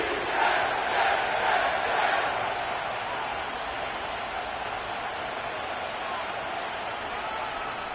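A stadium crowd at MetLife Stadium in East Rutherford in Madden 25 roars in a steady, broad wash, a little louder in the first couple of seconds and then holding an even murmur, with a commentator's voice over it.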